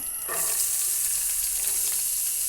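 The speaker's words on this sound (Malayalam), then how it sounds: "ഉള്ളിയൊക്കെ ഇട്ട് കൊടുക്കുന്നുണ്ട് നല്ലതുപോലെ നല്ല വാടി വരണട്ടോ" Onions fry in coconut oil in a pan while a prawn fry is prepared, giving a close, steady sizzle and hiss that swells slightly after a moment and holds without talk.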